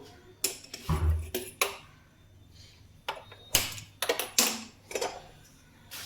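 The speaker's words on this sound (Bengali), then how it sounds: "কড়াইটা আমি বসিয়ে দিচ্ছি" Several sharp metallic clanks and scrapes of a heavy wok being handled and set down on a gas stove, close by, with quiet gaps between.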